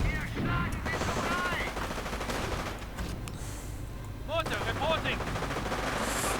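Mortar and small-arms fire in a strategy video game, dense overlapping gunshots and bursts continuing throughout, with some chirping game effects mixed in.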